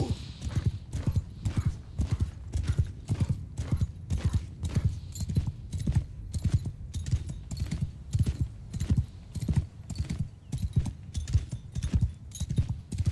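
Cavalry hooves in the video game Mount & Blade II: Bannerlord, a rapid, continuous clatter of many galloping horses with an occasional faint whinny, loud and close throughout.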